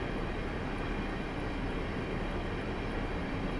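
A steady, dense rumble of a Class 150/2 train in Train Simulator 2019 runs throughout, constant and fairly loud with no pauses or voices.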